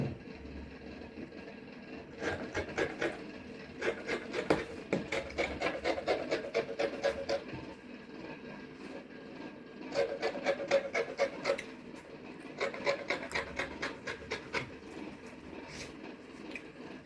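Scissors snip and rasp through gown fabric in repeated runs of quick, crisp cuts, with pauses between bursts, close-up and moderately quiet.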